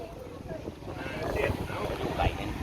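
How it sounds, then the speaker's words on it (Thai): Strong gusting wind blows straight into the microphone outdoors, making a continuous heavy rumble and buffeting that stays loud for the whole stretch. "ลมแรงซะด้วยนะครับทุกคน ลมแรงเลย"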